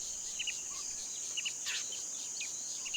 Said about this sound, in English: The only thing breaking the peace is the incessant screeching of cicadas.